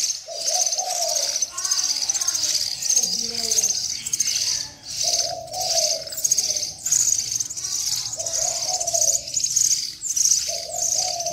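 Young hill myna chicks give repeated chirping calls in short bursts, close by and fairly loud, against a steady insect-like background hiss with no talking.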